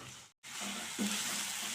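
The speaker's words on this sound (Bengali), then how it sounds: "এবার আমি এটাকে খুব ভালো করে কষতে থাকবো বেশ কিছুক্ষণ ধরে।" Masala with peas, paneer and potato sizzles steadily in a pan while being sautéed, a continuous close frying hiss broken by a brief silent gap and a soft stirring scrape.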